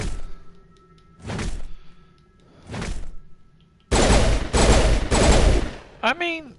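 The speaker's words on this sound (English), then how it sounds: "throw a grenade" A grenade goes off in Mass Effect: two booming thuds of gunfire come first, then a loud, sustained blast with crackling debris that cuts off sharply, followed by a brief trailing sound.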